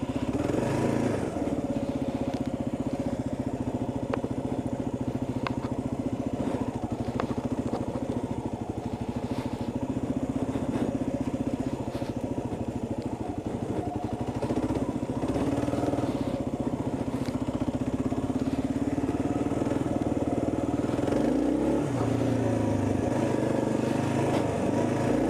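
Kawasaki KLR motorcycle on stock tires climbing a rough mountain road past a rock quarry, its engine droning steadily and close with wind and rattling over the whole ride, no talk.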